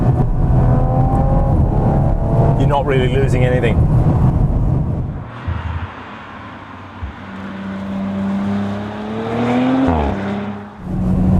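A 2018 Audi RS5's V6 twin-turbo engine hums and revs through a gear change, its pitch climbing and dropping, while someone talks over it near the start.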